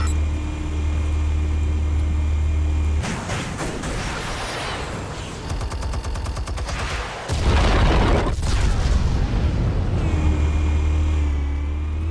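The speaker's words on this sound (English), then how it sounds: "Explosives armed. Fire when ready." Explosives detonate in a Batman Telltale game scene, a loud sustained rumbling blast with crackling debris over a heavy low drone, followed by a second deep boom and continuing roar.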